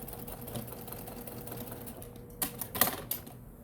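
A sewing machine stitches a double pocket bag, a quiet rapid chatter that continues steadily, then gives way to a few sharp clicks and taps near the end.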